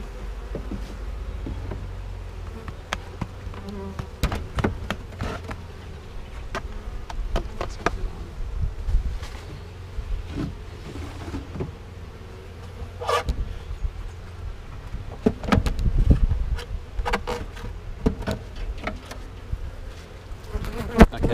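Honey bees buzz continuously around an opened hive during a honey harvest, a dense droning hum with individual bees passing close, plus scattered clicks and rustles of handling equipment.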